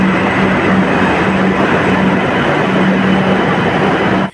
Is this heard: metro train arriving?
yes